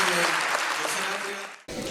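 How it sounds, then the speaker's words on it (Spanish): An audience gives a professor a strong burst of applause after a constitutional discussion event in Frutillar, a dense close wash of clapping that cuts off abruptly near the end. "un gran aplauso más grande para el profe"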